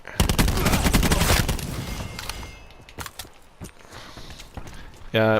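A GK5 submachine gun in Call of Duty Black Ops 4 Blackout rips off a rapid, loud burst of automatic fire, then a few scattered shots and footsteps follow, with a voice talking over part of it.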